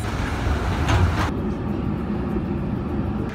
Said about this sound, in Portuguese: Aqui na parada esperando o nosso trem chegar, tá chegando ali já.